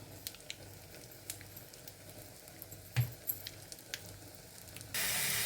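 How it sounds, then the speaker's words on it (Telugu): Turmeric and asafoetida are tempered in hot oil for a tomato chutney. A few faint crackles and pops sound over a quiet background, then a sudden loud, steady sizzle bursts out at the very end. "ఇది వేగిన తర్వాత ఇంగు యాడ్ చేస్తున్నాను నేను."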